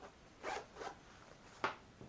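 A zipper on a sewn wrap skirt-shorts being pulled closed in a few short, raspy strokes, close and fairly quiet, with brief pauses between pulls.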